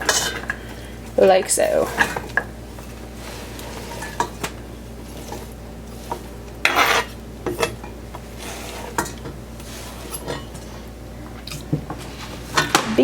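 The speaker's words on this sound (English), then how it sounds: "you're going to put all of your sliced peppers into the pot" Sliced peppers are tipped into a big pot while cooking a chicken stir fry, giving repeated clattering metal scrapes and knocks of pot and utensils, with a brief spoken remark.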